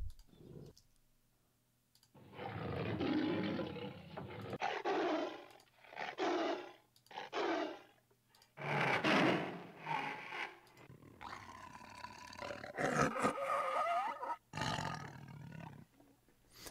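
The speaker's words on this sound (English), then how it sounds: "so I've got all my usual tiger sounds" Several deep, growling tiger roars from a sound library, played one after another in separate bursts with short gaps, loud and close, ending in a rougher, more textured snarling roar.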